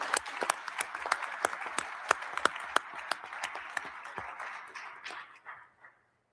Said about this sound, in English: So please welcome them with your applause.